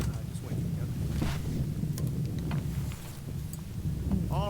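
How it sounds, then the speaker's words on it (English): Wind buffets the microphone outdoors at a trucker convoy gathering, a low, rough rumble lasting throughout, with faint voices and distant bits of noise mixed in. "Quite windy, so if you hear some wind, it's just wind."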